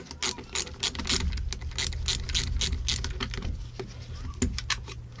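A Stanley socket set ratchet loosens the nuts on a Stihl MS193T chainsaw, giving rapid bursts of close, sharp clicking in uneven runs over a low background hum.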